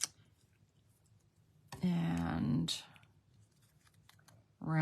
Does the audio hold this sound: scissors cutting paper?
yes